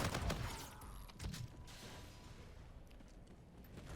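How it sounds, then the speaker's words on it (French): Shotgun fire in the Call of Duty video game: a heavy blast at the start and a second boom about a second later, then a dense, noisy game-ambience tail with no talking. "Ça c'est un fusil à pompe je pense hein."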